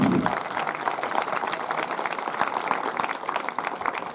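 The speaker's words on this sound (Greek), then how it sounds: "Χειροκρότημα" Steady applause from a crowd at an honorary evening event in Kefalovrysi, Viannos, Greece, a dense patter of clapping that continues evenly throughout, moderately loud and somewhat distant.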